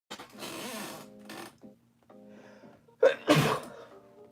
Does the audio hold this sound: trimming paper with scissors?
no